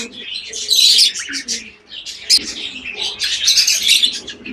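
A grey cockatiel and a lovebird that has laid eggs chatter together in busy, shrill chirps and tweets, loud and continuous, with a faint low coo now and then beneath.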